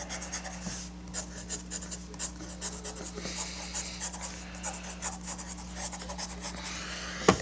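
A pencil scratches steadily across a workbook page in a phonics lesson, with short, rhythmic strokes over a low steady hum and no talk.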